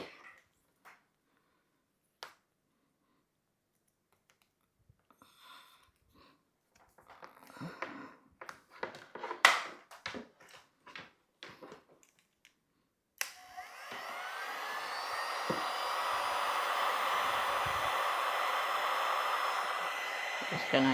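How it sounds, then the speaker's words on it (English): A heat gun blows hot air onto heat-shrink tubing over joined wires, starting partway through as a steady, loud rushing whoosh after scattered quiet handling clicks and taps, close and continuous. "the heat gun."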